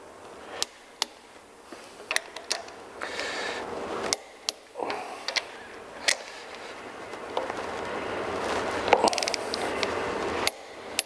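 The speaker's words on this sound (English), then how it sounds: "I'm just going to pull this up to the torque of 110 and then continue through the pattern." Torque wrench tightening cylinder head bolts on an engine, sharp metallic clicks and ratcheting at irregular intervals over handling noise and a low background hum.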